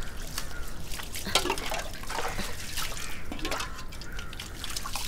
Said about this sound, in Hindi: पीठ पे पानी डाल